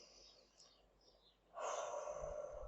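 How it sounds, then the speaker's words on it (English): A deep breath taken to calm rage: a quiet breathy inhale, then a louder, sustained airy exhale close to the microphone. "So I would breathe into the rage."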